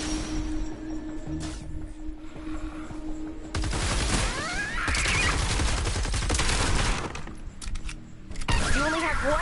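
Fortnite Save the World combat, with close, dense automatic gunfire and sharp impacts building after a quieter opening, continuing in heavy bursts with brief lulls.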